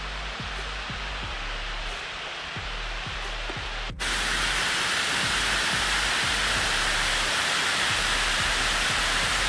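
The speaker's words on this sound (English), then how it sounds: "A wall of water" Water pouring over the Derwent Dam spillway in the Peak District, a broad steady waterfall roar that swells louder and closer partway through, constant and dense with no talk.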